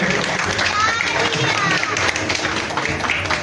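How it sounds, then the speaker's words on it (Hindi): An audience at a national drama festival in Rajouri applauds an award presentation, filling the whole stretch with loud, continuous clapping mixed with crowd noise and voices. "प्लीज जोरदार तालियां बजाइए"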